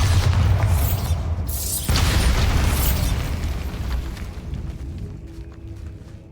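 A Bombarda blasting spell explodes in Hogwarts Legacy, a loud booming blast with a second burst, then rumbling debris that slowly fades over several seconds.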